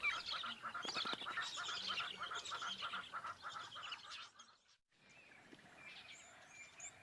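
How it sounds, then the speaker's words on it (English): A flock of birds feeding at a lion kill in the African wild, a dense overlapping chorus of honking, squawking calls close by that thins out into sparser, quieter calls near the end. "It's a little bird feeding party."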